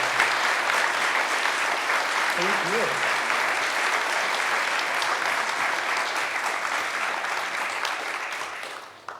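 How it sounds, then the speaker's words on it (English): An audience at a US House candidates forum gives sustained applause, a thick, even wash of clapping for about nine seconds before tapering off, with a brief spoken thanks heard under it. "Would you please give them both a round of applause?"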